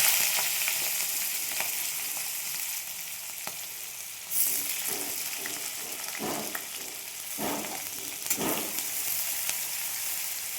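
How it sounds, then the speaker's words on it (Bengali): Onion frying in hot oil with cumin seeds in a pan, a steady close sizzle with a few sharper crackles and stirring scrapes partway through. "এবার আমি পেঁয়াজ দিয়ে দিলাম একটা"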